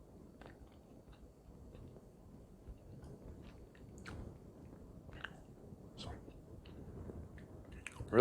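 Someone chews a bite of a keto mug cake biscuit close to the microphone, with soft, faint, moist chewing sounds repeating over several seconds.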